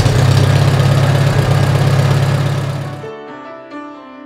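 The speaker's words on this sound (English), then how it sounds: "Thought I'd do a little cold start there." A Ram 2500 truck engine idles rough and loud close by after a winter cold start with no choke, a steady low throbbing rumble. It cuts off near the end and only a faint ringing tone remains.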